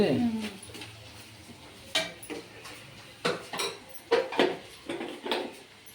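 Cowpeas (alasanda guggulu) being stirred in a pan with a metal spoon, giving intermittent scraping clinks and taps against the pan at an irregular rhythm, close by, with soft background hiss.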